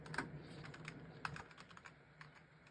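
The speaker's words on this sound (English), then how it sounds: "typing with one hand here" Computer keyboard typed on with one hand beside a 486 DOS machine, faint irregular key clicks scattered across the clip, quiet and close with no talk.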